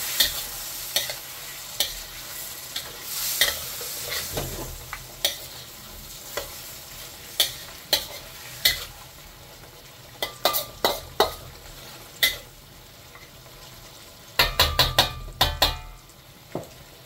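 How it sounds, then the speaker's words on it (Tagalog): Beef caldereta sizzling in a pan while a spoon stirs it, a steady frying hiss broken by repeated sharp scrapes and clinks of the utensil against the metal, close and alone. "Haluin natin."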